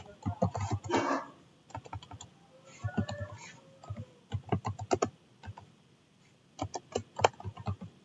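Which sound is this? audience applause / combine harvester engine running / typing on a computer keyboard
typing on a computer keyboard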